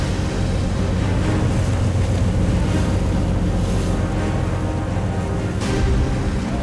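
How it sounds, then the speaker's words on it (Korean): Rough sea waves surge and crash continuously around a fishing boat working nets in a storm on the western sea, with heavy wind buffeting the microphone throughout and no talk. "갑자기 파도가 거세다."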